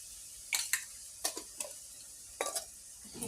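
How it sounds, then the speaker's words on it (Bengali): Spices with turmeric and chili powder being stirred and sautéed in a home kitchen pan, a low sizzle broken by a few sharp scraping strokes of a spoon. "এটাকে বেশ করে একটু কষাবো, বেশ করে কষাবো।"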